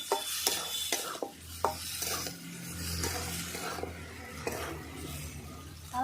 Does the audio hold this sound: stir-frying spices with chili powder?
yes